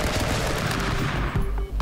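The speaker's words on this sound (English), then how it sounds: "No, the shotgun claims life." Shotgun blasts in the stick-figure fighting game Stick Fight, a dense, loud burst of gunfire filling nearly two seconds, with a brief dip near the end before another hit.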